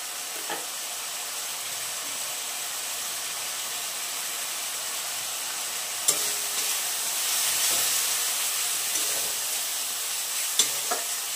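Pasta masala spice sizzling in a hot frying pan, a steady broadband hiss of frying oil throughout with a few sharp crackles and pops, no voices.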